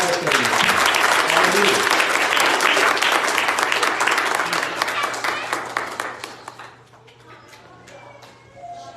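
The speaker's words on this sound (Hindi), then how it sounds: "आपकी भरपूर तालियों से उनका स्वागत" A church congregation at a Christmas Sunday service claps loudly to welcome a pastor, a thick wave of applause that gradually thins into scattered claps as a voice speaks briefly.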